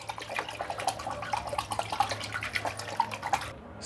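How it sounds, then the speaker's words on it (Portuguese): Iron rod dipped into a bucket of salt water, giving faint bubbling, dripping and trickling sounds with small irregular pops over a low hum, close by, ending in a sudden cut to near silence. "Porque eu vou enfiar um ferro na água agora."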